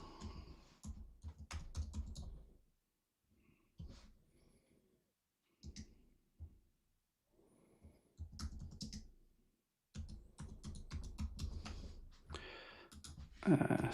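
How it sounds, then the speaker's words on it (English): Typing on a computer keyboard, with bursts of rapid, close key clicks separated by short pauses and quiet gaps. "sorry, I'm just typing these answers out."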